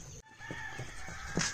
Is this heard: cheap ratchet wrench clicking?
no